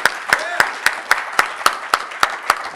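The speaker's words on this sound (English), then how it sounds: "Let's give a round of applause." Audience at the opening of a Bitcoin conference in Dubai clapping, heard as a series of sharp, evenly spaced claps about every quarter second, with tonal sounds faintly underneath.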